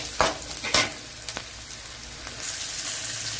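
Urad dal and chana dal sizzling in hot oil while being stirred, with a few sharp clinks and scrapes early on over a steady bright frying hiss.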